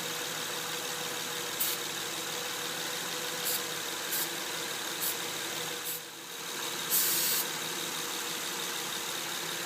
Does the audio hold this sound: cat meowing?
no